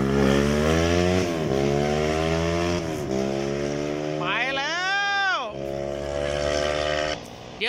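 Fully modified Kawasaki KLX 150 race motorcycle engine, a race bike from Khon Kaen, droning loudly up close, then sharply revving up and dropping back to a rough idle.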